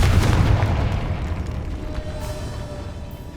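Confringo fire spell blast in the video game Hogwarts Legacy, a loud, deep boom that starts immediately and rumbles off over a few seconds, heard alone.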